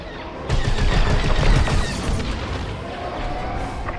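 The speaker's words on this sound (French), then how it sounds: "On me tire dessus!" Rapid blaster fire and explosions crackle in a dense, continuous barrage during a starfighter battle in the Star Wars: Squadrons video game, loudest early on and then easing slightly.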